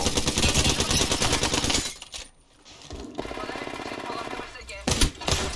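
Gunfire in the video game Apex Legends, dense rapid automatic bursts that cut out briefly and then return in sharp volleys, with players talking over the shooting.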